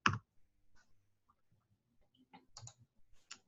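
Sparse mouse clicks in a quiet room while someone works in price-set management software: one sharp click at the start, faint scattered ticks, then a small cluster of crisp clicks near the end.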